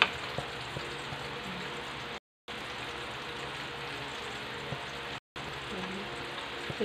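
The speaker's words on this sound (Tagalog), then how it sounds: "nagluluto ako ng fried na galunggong" Galunggong fish frying in a pan, a steady crackling sizzle close by, with two brief dropouts in the sound.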